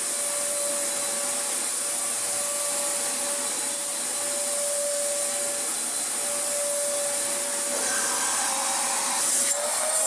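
An Electrolux vacuum cleaner with a 600 watt motor, made in China, runs at a steady close whine with a constant hum, shifting slightly near the end.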